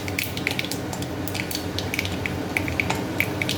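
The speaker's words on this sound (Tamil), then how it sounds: "கடுகு பொரிஞ்சிட்டுது." Mustard seeds popping in hot oil crackle with scattered sharp little pops over a steady low sizzle, close and fairly loud.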